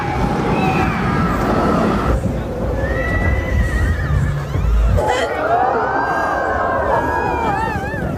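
A horse neighs and whinnies repeatedly in a film scene on a ranch, loud and close, with stomping hooves, crowd murmur and an eerie dramatic soundtrack running underneath.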